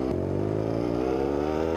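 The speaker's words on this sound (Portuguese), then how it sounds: "Ó o ronco dessa moto, mano, que insano" An F8 Senza motorcycle engine revs in a Brazilian motorcycle video game, a loud, steady throaty roar with a rising pitch, heard alone and close throughout.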